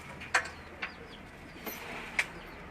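White pigeons in a cage, a few soft coos and short calls spaced across a couple of seconds, fairly faint over low background noise.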